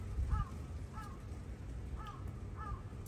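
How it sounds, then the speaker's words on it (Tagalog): A crow caws in short doubled calls, four times at a steady pace, a little distant over low background rumble. "ingay ng uwak, di ba?"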